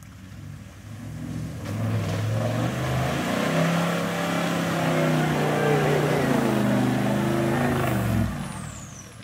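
A Jeep Gladiator crawls in low range with front and rear lockers engaged and sway bars disconnected on Far North Queensland's Creb Track. Its engine drones close and steady, revs rising and falling for several seconds before cutting back.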